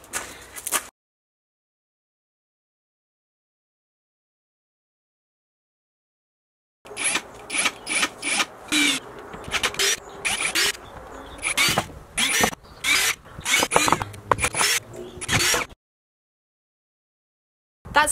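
Plywood floor being screwed down inside a van under conversion, a run of short loud bursts like a power driver whirring and clicking over roughly nine seconds, preceded and followed by silence.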